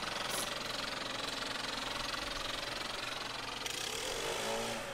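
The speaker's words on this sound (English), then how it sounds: "the blower wants to blow the rocks all over the place" A leaf blower engine runs steadily nearby while clearing gravel from grass, a loud continuous droning roar with a slight pulsing idle character and no speech.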